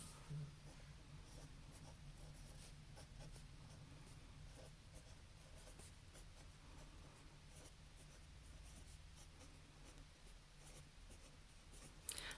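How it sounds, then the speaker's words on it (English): Numbers written by hand, a faint continuous scratching of pen or pencil on paper in a quiet room, soft and close with no talking. "I'm going to have to write this 12 times."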